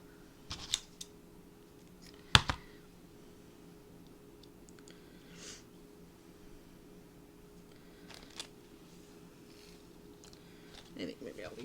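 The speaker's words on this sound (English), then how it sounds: "I'm going to cut this one in half." Scissors cut a paper door tag in half: a few sparse, faint snips and clicks spread apart against a quiet room hum.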